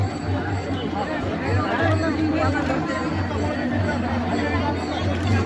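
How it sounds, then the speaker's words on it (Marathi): Dense babble of many pilgrims chattering while circling the Vitthal Rukmini temple in 2024, a steady close-packed hubbub with no single voice standing out and a low hum beneath. "खूप अशी गर्दी आहे पुढे"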